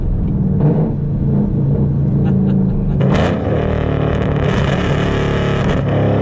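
Straight-piped V8 car exhaust with a pops and bangs tune, a deep loud rumble that swells as the engine revs and then settles back, heard close with no talk.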